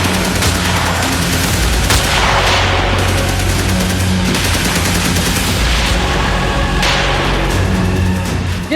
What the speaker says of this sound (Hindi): अचानक शहर के एक हिस्से में गोलियां चलने लगी।